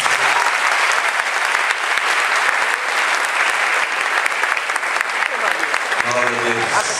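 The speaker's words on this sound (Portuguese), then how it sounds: "Você pode aplaudir a vida." Church congregation applauding during an evening worship service, a dense, loud, steady clapping that fills the room and continues unbroken before fading as a voice begins to speak near the end.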